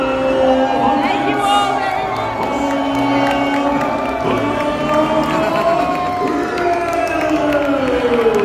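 A large audience at a Medieval Times dinner show cheers, whoops and shouts together in a sustained, loud roar that fills the arena throughout, with no individual speech standing out.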